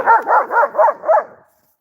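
A dog barks five times in a steady rhythm, loud and close, each bark short and evenly spaced before falling silent.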